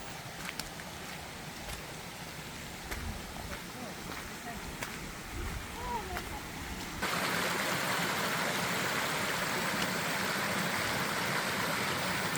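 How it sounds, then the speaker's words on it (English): Stream water flowing beside a muddy hiking trail in Pinnacles National Park in spring, a soft continuous rush that grows louder and fuller partway through, with faint wind noise. "We listened to the water"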